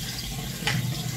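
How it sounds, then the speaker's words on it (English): Tap water runs steadily into a sink as a facial cleansing brush head is rinsed, a brief continuous splash with one slightly louder gush midway, close and alone. "So, I'm going to rinse my brush head off."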